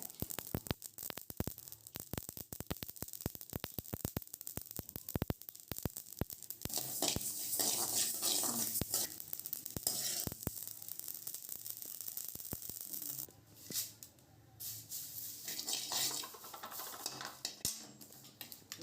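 Dense, rapid crackling and popping of spices roasting in a dry pan, steady and close, with a faint hiss throughout and no voices.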